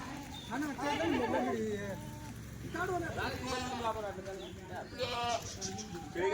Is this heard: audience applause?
no